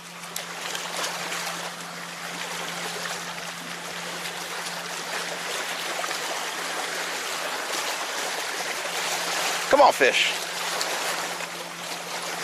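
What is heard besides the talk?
waves on the shore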